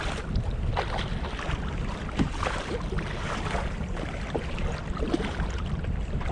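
Wind and sea swell rush past a kayak on the North Sea in a continuous noisy roar, with wind buffeting the microphone and occasional splashes and knocks breaking through.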